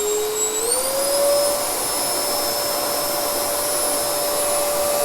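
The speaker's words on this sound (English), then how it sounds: "the vacuum cleaner is buzzing off" A vacuum cleaner runs loud and steady with a high whine that rises in pitch early on, then holds constant.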